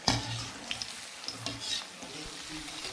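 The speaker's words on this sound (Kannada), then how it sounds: "ಚೆನ್ನಾಗಿ ಬ್ರೌನ್ ಆಗೋವರೆಗೂ ಸ್ವಲ್ಪ ಕರ್ಕೊಳ್ಳಿ." Veg Manchurian balls deep-frying in hot oil for a Chinese-style recipe, a steady close crackling sizzle with a few brief louder spatters and no talking.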